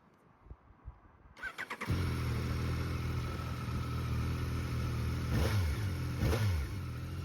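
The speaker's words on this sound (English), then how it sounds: "The engine sounds mega. That's the 890cc CP3 triple." A Yamaha 890cc CP3 triple motorcycle engine cranks with a few quick chugs, fires and settles into a loud, steady idle, then two sharp blips of the throttle rev it up and back down.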